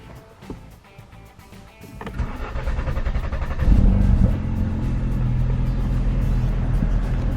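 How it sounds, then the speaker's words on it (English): A Ford Focus RS engine, remapped to stage 2, cranks and catches on a cold start, then settles into a steady, loud idle that continues close by. "now we can do our first fire up of the car with the new map on"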